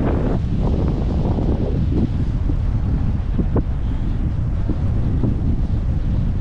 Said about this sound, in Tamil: காற்று தான் அதிகமாக கேட்குது இந்த சவுண்டில்.